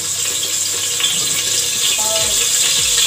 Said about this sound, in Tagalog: oil, cooking oil, para i-fry po natin yung mga ingredients